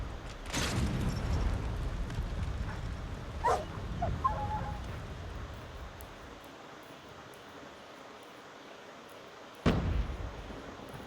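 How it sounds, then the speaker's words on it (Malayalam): Dogs bark in a few sharp bursts over a dense, rumbling Call of Duty Mobile soundscape, with a loud thud near the end. "പട്ടിയൊക്കെ വരുന്നുണ്ട്"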